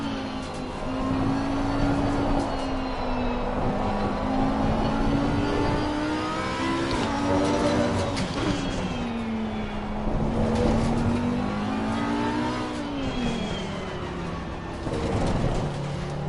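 A GT race car in Assetto Corsa Competizione laps the Catalunya circuit, its loud engine note rising and falling through gear changes and revving continuously up close.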